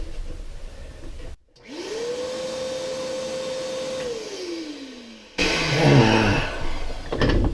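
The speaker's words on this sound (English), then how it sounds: "It appears my vacuum is blowing and it's only got one hole." A brand new vacuum cleaner that is blowing air rather than sucking, with a clogged filter, in a bathroom remodel. It starts up with a rising whine, drones steadily, winds down, then a louder close roar follows.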